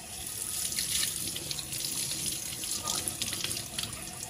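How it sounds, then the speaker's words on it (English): Tap water runs steadily into a sink while glasses and dishes are washed, a close, continuous splashing rush with small surges and no voices. "So again, more washing of the dishes."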